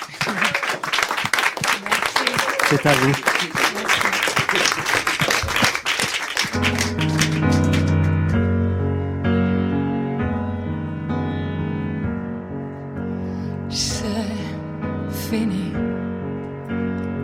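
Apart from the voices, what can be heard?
studio audience applause for live performance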